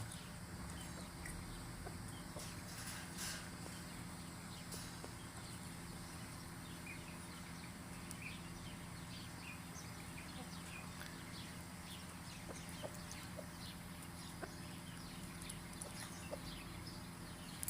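Soft clucks from an Indian rooster calling its hen sound over steady farmyard background noise, faint and somewhat distant, with occasional other bird sounds.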